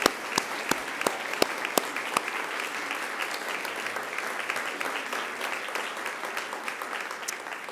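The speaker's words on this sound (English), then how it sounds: "turn to one another and give yourselves a resounding round of applause" A crowd of graduates at a Macquarie University graduation ceremony breaks into a sustained round of applause, dense clapping from many hands with a few sharp nearby claps standing out at the start.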